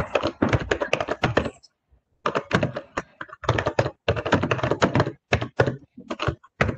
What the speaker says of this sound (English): Sorry, someone's typing.